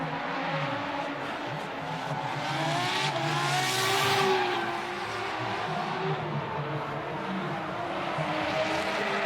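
A drift car at full throttle in RDS GP qualifying in Vladivostok, its engine screaming steadily with gliding pitch changes, swelling louder mid-run amid tire noise.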